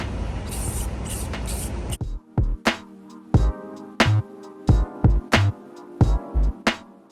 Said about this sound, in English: So spray paint this.